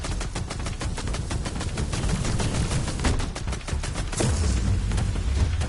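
A shotgun fires in the VR Invaders game for PSVR, with a rapid, evenly spaced run of sharp shots close up and a deeper boom near the end.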